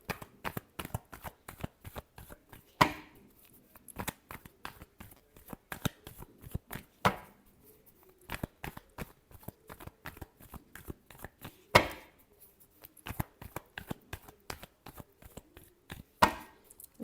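Tarot cards shuffled close up in a quick, continuous riffling patter, with a few louder slaps of the deck at intervals, no talking.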